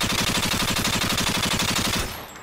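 Rapid sustained automatic fire from an F2000 rifle in a video game, loud and evenly rhythmic for about two seconds before cutting off.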